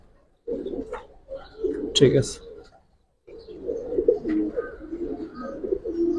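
Large Giribaj pigeons coo in a loft, with low rumbling calls rising and falling over several seconds, broken by a short pause. Someone speaks briefly nearby.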